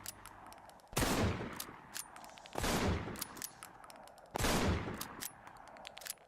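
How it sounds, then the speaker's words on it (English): Three heavy shotgun blasts at a steady interval for a game, each a loud broadband burst with a decaying tail, separated by quieter clicks and rattles of reloading and spent shells dropping. "I also made use of a multi-action event for the shotgun asset, wherein the reload and shell falling sounds would occur within a set time delay"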